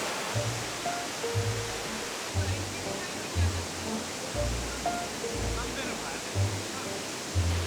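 A waterfall in Da Lat, Vietnam roars steadily, a broad hiss of cascading water with low rhythmic thumps beneath; a voice is briefly heard faintly.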